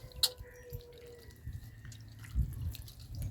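Water used to wash raw chicken is poured out onto plants outdoors, giving a light splashing trickle with scattered drips, fairly quiet and without talk.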